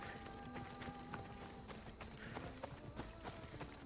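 Horse hooves galloping in Assassin's Creed Odyssey, a steady run of clip-clop beats under continuous game music and ambience, fairly loud throughout.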